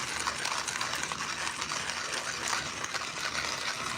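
Burmese Bear manual coffee grinder crushing coffee beans with its handle working loose, giving a steady close gritty crunching and ratcheting that runs unbroken throughout with no voices.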